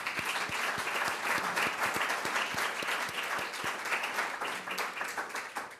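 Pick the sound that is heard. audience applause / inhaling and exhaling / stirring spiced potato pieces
audience applause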